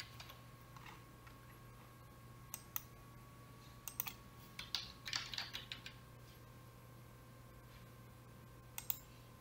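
Light typing on a computer keyboard while entering names into an online golf tee-time booking system, with scattered soft key taps and a few sharper clicks over a low steady hum, no talk.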